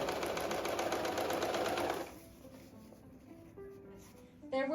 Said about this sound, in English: I'm just folding it once, doing another tiny fold, and then sewing it on the inside.